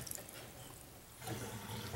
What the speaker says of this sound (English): And now it's draining water.